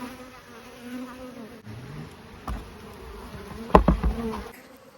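Honey bees hum around an open hive during a weekly swarm inspection, a low droning buzz under scattered bumps and clicks of handling, with a sharp clatter near the end.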